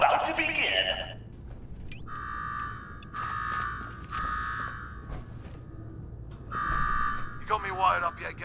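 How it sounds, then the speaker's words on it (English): An alarm in Fallout 4 sounds in repeated electronic buzzing tones, several pulses with short gaps. Brief voices speak at the start and end. "Now go shut off that damn alarm."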